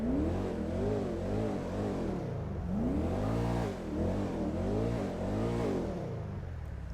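A Gallivanter Baller ST SUV from GTA 5 Online revs its engine over and over, the loud tone rising and falling in repeated swells, close and steady with no talking.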